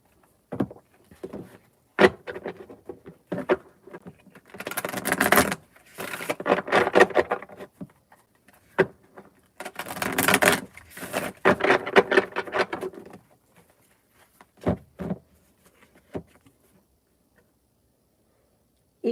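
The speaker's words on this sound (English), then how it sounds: "Let's give these a good shuffle." A deck of tarot cards being shuffled by hand, crisp riffling bursts and soft slaps in irregular clusters with quiet pauses between, close and fairly loud, no talking.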